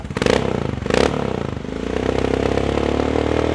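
A 2018 Royal Enfield Himalayan 400 motorcycle fitted with an aftermarket Akrapovic-style exhaust, recorded up close: two sharp throttle blips rise and fall quickly, then the single-cylinder engine settles into a steady, thumping idle.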